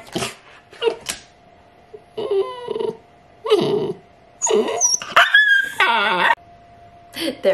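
Siberian Husky puppies bark, yip and whimper in short, loud bursts separated by brief pauses, some calls rising into howling, talkative whines, close to the listener.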